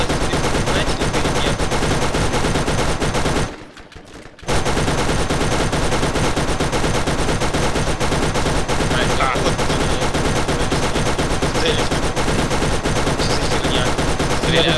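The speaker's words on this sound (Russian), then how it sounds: "Такая стрельба, что я даже вас не слышу." Heavy gunfire in the co-op shooter Borderlands rattles almost without pause, loud and dense, breaking only for a brief lull before resuming at full force.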